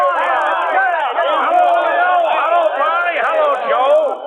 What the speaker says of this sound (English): he's greeted by a loud cheer from his henchmen